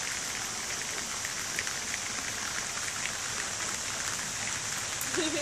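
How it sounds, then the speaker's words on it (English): Heavy rain pours steadily outdoors during a thunderstorm, a dense even hiss of drops hitting surfaces, moderately loud and continuous with no talk. "it's raining pretty darn hard."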